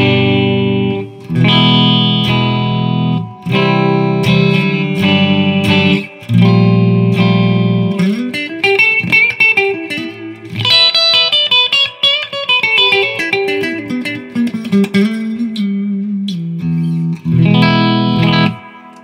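Latitude Cardinal headless electric guitar played through effects with the middle pickup selected, loud distorted chords and sustained notes ringing with reverb, then a sliding melodic run before chords return.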